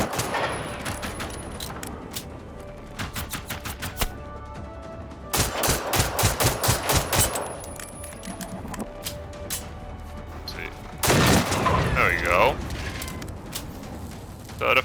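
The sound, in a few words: gunfire shooting at a machine in the video game Generation Zero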